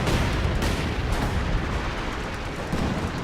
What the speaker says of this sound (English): Light artillery barrage clears out this gun